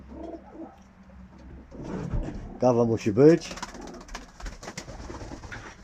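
Pigeons coo in a low, throaty rhythm close by in a loft, while someone speaks briefly over them.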